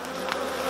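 Honeybees at the hive entrance while bringing pollen in, a soft continuous buzzing hum at low level with a faint brief tick partway through.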